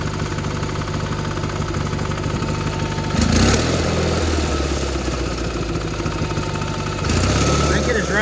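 A John Deere 420 garden tractor engine runs steadily at a low, lumpy idle, slightly rich, with a louder surge around three seconds and again near seven seconds.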